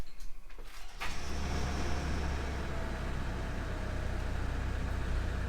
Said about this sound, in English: So let's start the vehicle up